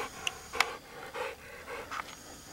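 A coonhound pants quietly during a coon hunt outdoors, a run of faint, rhythmic breaths with a couple of soft sharp sounds mixed in, fairly close but low in level.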